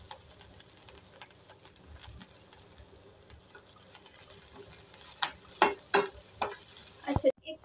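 Garlic, capsicum and green onion cooking in a little oil in a pan give a quiet sizzle, with a faint background hiss and a run of sharper stirring taps and clatter toward the end.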